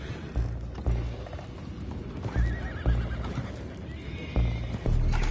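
Horses whinny and neigh over rhythmic hoof clip-clops in Red Dead Redemption 2, close and loud, with some creaking mechanical noise in the background.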